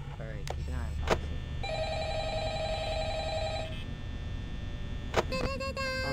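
A telephone rings in the Five Nights at Freddy's security office, steady electronic ring tones holding for a few seconds over a low hum, with sharp clicks and beeps at either end.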